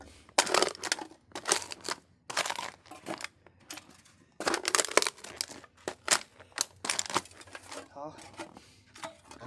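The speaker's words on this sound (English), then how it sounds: "Smashing cans." Aluminum cans are crushed in loud, close bursts of crunching and crinkling metal, several separate smashes with short pauses between them, and a voice is heard talking between them.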